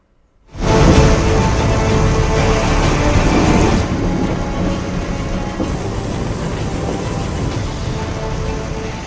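Heavy monsoon rain pours down in Uttarakhand during a downpour with rumbling thunder. A loud, dense roar starts abruptly, then continues as a constant wash of rain and low rumble, easing slightly after a few seconds.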